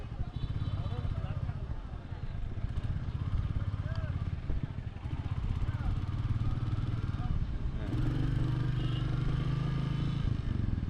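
A Royal Enfield Classic motorcycle rides near Thanchi bazar in Bandarban, its steady low engine drone continuous and close throughout, with voices talking over it and a heavier surge near the end.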